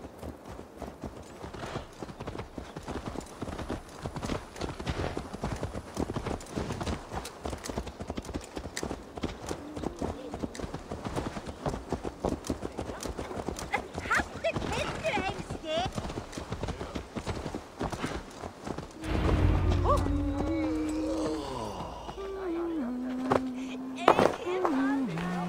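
Horse hooves clip-clop steadily in Assassin's Creed Valhalla, a continuous rhythmic trot beneath ongoing game dialogue and music, ending with a heavier tonal ambience near the end.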